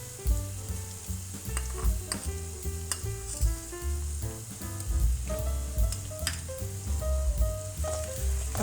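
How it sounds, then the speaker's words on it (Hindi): Ginger garlic paste frying with golden brown onions in a pan, a steady close sizzle with light stirring scrapes and clinks throughout, no voices. "अब 3 से 4 मिनट हम इसको अच्छी तरह से भूनेंगे ताकि लहसुन का जो कच्चापन होता है वो अच्छी तरह से ख़त्म हो जाए।"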